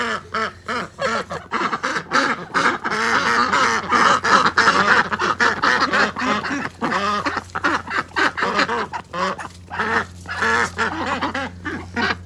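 Ducklings quack close by in a rapid, continuous chorus of overlapping calls, with brief pauses throughout.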